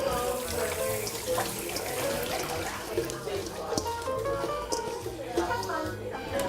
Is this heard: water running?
yes